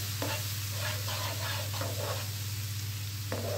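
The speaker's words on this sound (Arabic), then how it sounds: "بقعد اقلب كده" Eggplant being stirred in a pan with a spoon gives several soft scraping strokes over a steady low sizzle and a constant background hum.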